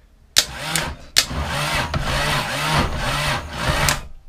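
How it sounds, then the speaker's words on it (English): A starter motor on a diesel motorcycle engine spins the crank and gearbox, giving a loud, steady mechanical whirring with rhythmic pulsing after two sharp clunks at engagement. "So this has been testing the starter motor for the diesel engine"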